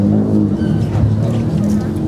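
Renault Clio Sport rally car at a Czech rally stage, engine droning loud and close in a steady roar with a faint rise in pitch, a voice speaking over it.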